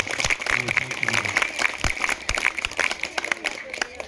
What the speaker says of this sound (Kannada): ವೆಂಕಟರೆಡ್ಡಿ ಅವರಿಗೆ ಜೋರ ಚಪ್ಪಾಳೆಯೊಂದಿಗೆ